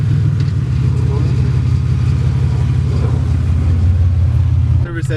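A Pontiac Grand Am with a new exhaust drones with a loud, steady low rumble while driving, and someone talks over it.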